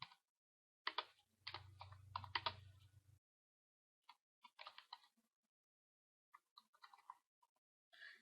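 Computer keyboard typing data into an Excel spreadsheet, close bursts of rapid key clicks separated by short pauses, with a brief low hum under the first burst, quiet and without talk.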